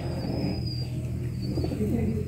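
Domestic pigeons in a loft coo in low, throaty murmurs, several birds overlapping steadily and close by, with faint chirps and background hum and no talking.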